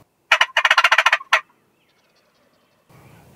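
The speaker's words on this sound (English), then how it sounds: "Every time I yelp, they answer. You know, I gobble, they answer." A wild turkey gobbles in spring woods, one loud rapid rattling gobble close by, a short trailing note, then quiet with faint rain-like background noise near the end.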